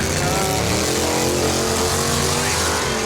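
A loud, roaring drag racing car engine at full throttle down the strip, a continuous dense blast of engine noise that stays strong throughout.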